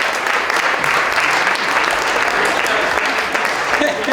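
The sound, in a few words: audience applause for award finalists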